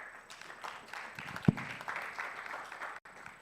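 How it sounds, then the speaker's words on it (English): A conference audience applauds after a presenter is introduced: a steady, diffuse patter of many hands lasting about three and a half seconds, moderately loud and filling the hall, with one sharp louder clap near the middle. "Round of applause"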